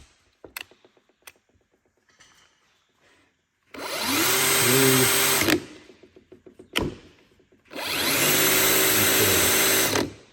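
A Festool TPC 18/4 Quadrive hammer drill, set to second gear, spins up twice in steady high-pitched whirring runs of about two seconds each, preceded by small clicks from handling the tool.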